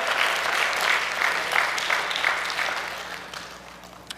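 Church congregation breaking into brief applause, a full wash of clapping that stays steady, then thins and fades toward the end.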